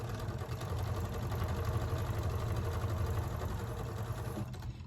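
Sewing machine stitching fabric for a neck pillow, a steady, close mechanical hum with a fast regular needle chatter that runs without pause for several seconds, then slows slightly toward the end.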